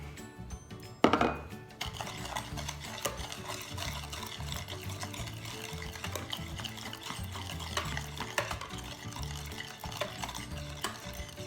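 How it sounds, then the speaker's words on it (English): Eggs and sugar are beaten in a bowl, giving continuous close stirring and scraping with a sharp clatter near the start and a steady busy texture after. "I started beating up 2 eggs. To that I'm going to mix a 1/4 cup of sugar."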